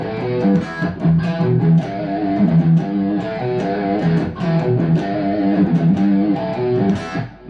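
Electric guitar plays a riff, a continuous lightly driven melodic line with shifting chordal notes and no break.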